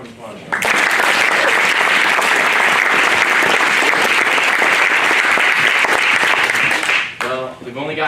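A live theater audience at an arts performance breaks into loud, sustained applause that fills the room for several seconds, then fades as a voice starts talking near the end.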